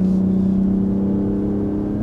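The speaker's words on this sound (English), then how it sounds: "Now I can rev it all the way out if I want," BMW engine revving in second gear on a car with paddle shifters: a loud, close, steady mid-pitched engine drone holding high revs for about two seconds, with no clear gear change heard.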